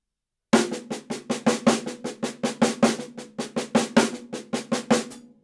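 A drummer plays a slow sextuplet chop on a drum with accents and ghost notes, an even run of about twenty sharp strokes with louder accented hits standing out, close and alone.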